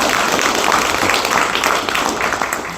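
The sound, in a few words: audience applause at a book concert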